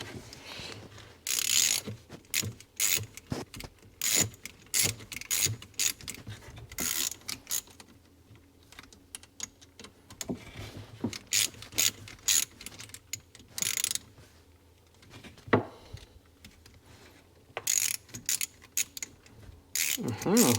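A socket ratchet wrench works on a Seadoo 787 engine, giving repeated bursts of close clicking with pauses and some metallic handling sounds throughout.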